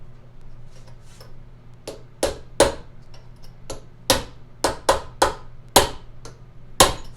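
A hammer strikes a metal punch, sharp metallic hits landing one at a time at an uneven pace, about a dozen over a quiet background hum, while taking apart a Snapper RER mower's differential.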